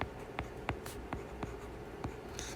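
A pen writes quickly on paper in a sequence of short scratchy strokes with small pauses between them, recorded up close and fairly quiet, with no one speaking.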